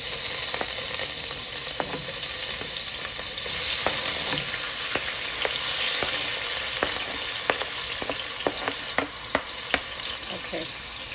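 Seasoning sizzling and crackling in hot oil in a pot while making shrimp Alfredo, a steady close frying hiss with sharp pops and stirring clinks scattered through it.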